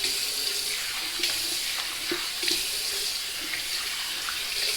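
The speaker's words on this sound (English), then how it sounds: "I'm going to just rinse it off my hands here." Tap water runs steadily into a bathroom sink as shaving soap is rinsed off hands, a continuous close splashing hiss with small irregular splatters from the hands moving under the stream.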